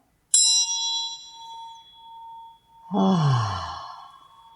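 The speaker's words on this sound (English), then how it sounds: "I will use a bell." A meditation bell struck once to close a session rings out with a bright attack and a long, slowly fading tone, followed by a softer, lower second resonance swelling near the end; no talk over it.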